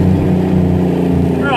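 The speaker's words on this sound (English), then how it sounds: "let's set it off with a bit of a down change on the old Jacobs engine brake" A truck's Jacobs engine brake drones loud and close during a downshift, a steady, throbbing engine rumble.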